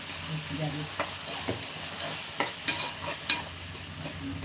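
A ground paste of tomato, ginger, garlic, pepper, cumin and fennel hits hot oil in a pan for mutton gravy, giving a soft steady sizzle with a few sharper spatters and stirring scrapes, moderately close and quiet.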